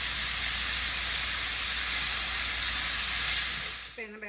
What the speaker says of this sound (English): we're just going to brown that and cook it almost all the way, not quite all the way